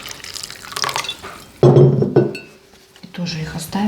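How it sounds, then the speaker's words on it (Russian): Warm water is poured over candied fruit in a kitchen, a wet splashing and trickling with light clinks of glass or dishes, fairly close, as people talk over it. "Сейчас зальем цукаты водой тепленькой."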